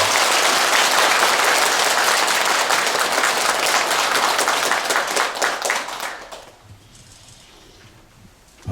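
An audience at a Buddhist dharma service in Korea applauds to welcome a monk, a dense sustained wash of many hands clapping that holds steady for about six seconds before fading into the quiet hall.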